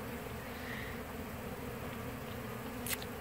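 Honeybees swarm in a steady, dense drone during a hive removal in Bradenton, Florida, late in the day near dusk, a continuous close buzz with no talk over it.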